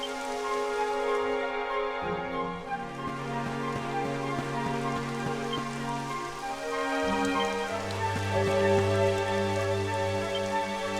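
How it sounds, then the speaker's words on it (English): Steady rain falls in Dragon Quest XI S, a dense continuous patter that stays even throughout, layered with sustained musical tones. "It would have to go and start raining, wouldn't it?"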